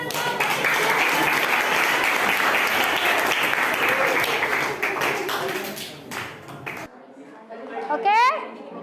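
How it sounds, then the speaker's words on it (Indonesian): A class audience breaks into loud, sustained applause for a group presentation, dense clapping filling the room before fading out, followed by faint chatter and a short voice. "tepuk tangan kita semua"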